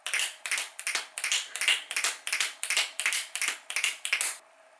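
Finger snaps mimicking a galloping horse: about a dozen close, crisp snap clusters in a steady loping rhythm, each a quick triple-beat, played alone and ending abruptly.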